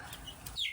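Chickens in a new coop give a brief, soft cluck and squawk at close range, the call rising at the end of a short, quiet moment.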